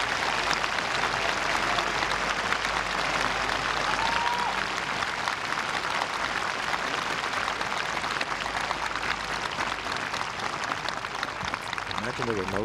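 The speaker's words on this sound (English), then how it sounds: "Chiba Japan, and they're cheering on their man" Large golf gallery at the 18th green in Chiba, Japan, applauding and cheering for Hideki Matsuyama, a steady, dense wash of clapping and crowd noise that holds evenly for the whole stretch.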